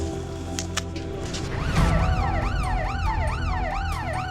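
A wailing ambulance siren at a hospital emergency and trauma centre rises out of a steady low hum and sweeps up and down repeatedly, loud and close, with no one speaking.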